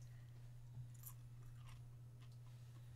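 Crunchy chewing of hard snacks, a few bites in close succession near the mic over a steady low hum, with no talking.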